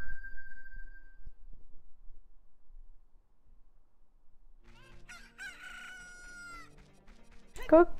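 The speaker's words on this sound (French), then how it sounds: "on entend un cocorico" A rooster crows in the village in Zelda: Ocarina of Time, a clear cock-a-doodle-doo heard once after a quiet stretch, followed by a brief voice at the end.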